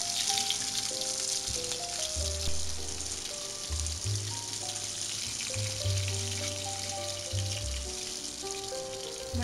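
Homemade fish sticks fry in hot oil with a dense, continuous crackling sizzle that stays loud and even throughout, with no talking.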